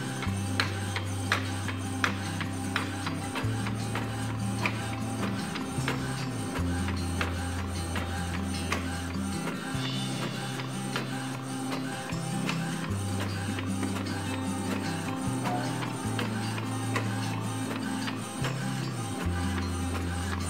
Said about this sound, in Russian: Давайте сделаем цветную ксерокопию.